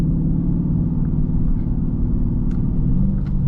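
A Dodge Charger 392 Scat V8 rumbles in a low, steady, fairly loud drone at close range, with only slight swells in engine note and no talk.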